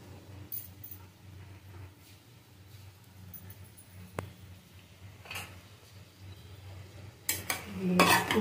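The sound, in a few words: stirring and sautéing elephant foot yam and prawns with spices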